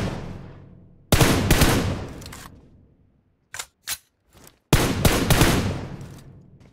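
Automatic gunfire in BGMI/PUBG Mobile, two loud sustained bursts with quick fading tails, separated by a few short isolated cracks and near-silent gaps.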